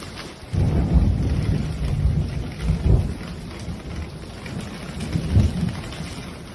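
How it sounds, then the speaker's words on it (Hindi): A heavy storm pours steady rain while deep rolls of thunder swell and fade underneath. The downpour is dense and continuous, with no voices. "और तेज तूफान के दौरान इस आदमी के घर की छत नीचे गिर जाती है।"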